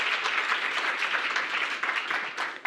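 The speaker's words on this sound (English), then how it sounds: "Can we please give her again a hand of applause?" An audience claps steadily for a few seconds, a dense wash of many hands applauding without voices over it.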